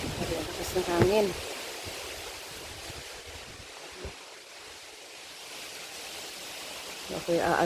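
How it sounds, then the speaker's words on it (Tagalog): Strong wind roars steadily in a broad, rushing blast, with brief bits of voice and small clatters at the start and end. "Lakas ng hangin."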